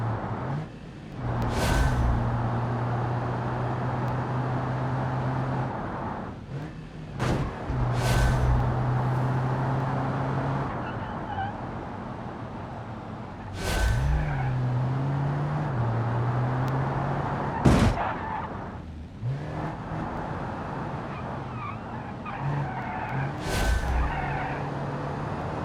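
Simulated car engine in the BeamNG driving game revving and shifting through gears, with several sharp tire skids and screeches breaking through the steady drone over roughly half a minute.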